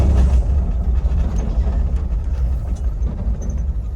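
The engine of a 1984 Jeep Wagoneer runs in a steady, loud, low idle rumble, heard close by throughout with slight fluctuations and no voices.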